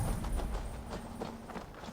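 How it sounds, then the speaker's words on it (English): Layered footsteps of a player character in Assassin's Creed Valhalla, the steps doubling into several overlapping treads that fall in a steady walking rhythm of soft, muffled thuds over a low rumble of game ambience. "Dude, I'm hearing that weird footstep thing again."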